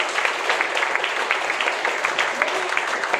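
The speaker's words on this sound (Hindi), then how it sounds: "ऐसे द ग्रेट पर्सनालिटी के लिए जोरदार ताली होनी चाहिए यार" Audience applause at a Vestige event, dense, steady clapping from a crowd sustained throughout at moderate loudness.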